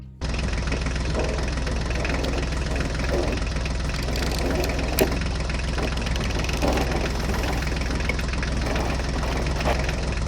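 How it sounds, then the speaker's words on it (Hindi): Engine of a toy JCB excavator and tractor, a continuous rough, knocking drone that runs steadily for about ten seconds at a constant loud level. "चलो चलो ड्राइवर, जल्दी से जेसीबी और ट्रैक्टर गाड़ी को लेकर चलो।"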